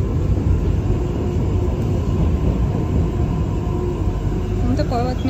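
An Istanbul metro train runs over a bridge with a continuous low rumble and rolling rail noise filling the scene, and people talk briefly near the end.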